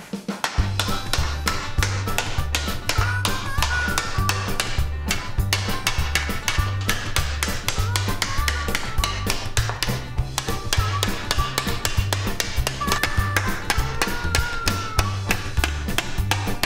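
A sheet of aluminum is hammered into a frying pan with a long run of rapid, evenly spaced metallic taps, close and steady throughout, with no talking.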